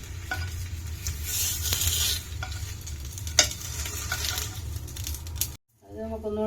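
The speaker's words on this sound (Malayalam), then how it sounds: "വഴുതനങ്ങ ഇത് ഫ്രൈ ആയിട്ടുണ്ട്" Eggplant (brinjal) sizzles and fries steadily in a pan while being stirred and turned, with a brief scraping clatter midway before the frying cuts out near the end and a faint voice follows.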